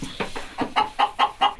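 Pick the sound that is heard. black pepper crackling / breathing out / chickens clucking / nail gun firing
chickens clucking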